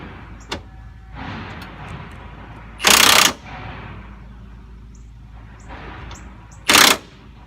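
A high-torque impact wrench tightens a nut during a third-generation Camaro control arm install, firing two short, loud hammering bursts several seconds apart over a low background rumble.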